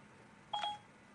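Telephone keypad tones sound while someone dials CFF Assistance: one brief, clear electronic beep stands alone over a faint hum.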